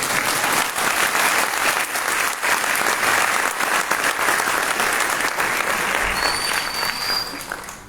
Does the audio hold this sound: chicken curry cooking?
no